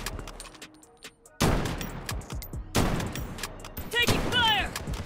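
Heavy gunfire in the mobile shooter Warzone Mobile: bursts of loud, close automatic shots in rapid rhythm, with game effects and a brief electronic chirp mixed in.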